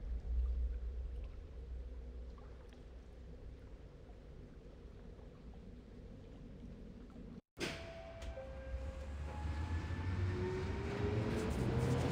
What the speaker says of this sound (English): She stepped onto the train.